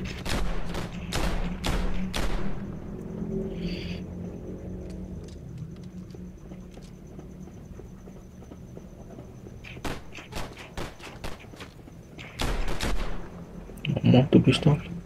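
Pistol fire in the video game Gangstar New Orleans comes as a run of sharp, loud shots. They cluster at the start and again near the end, over steady low game background noise.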